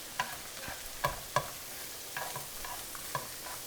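Oyster, shiitake and king oyster mushrooms frying with garlic in a pan, with scattered stirring scrapes and clacks over a soft, steady sizzle, heard close and alone.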